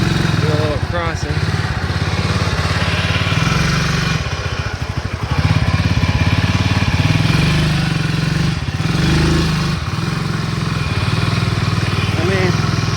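Coolster 125cc Chinese ATV with a ported head and solid locked rear axle, its small engine droning steadily and loudly as it drives through a muddy crossing, with brief revving surges.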